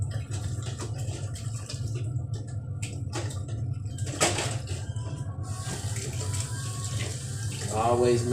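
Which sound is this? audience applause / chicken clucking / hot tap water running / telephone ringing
hot tap water running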